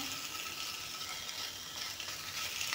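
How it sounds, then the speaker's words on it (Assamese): Two pieces of fish sizzle steadily in a hot pan, a dense, even crackle of frying that stays close and fairly quiet throughout, with no talking. "মাছ 2 পিচ একেলগে অলপমান এনেকৈ গৰম কৰি লৈ ল'ম।"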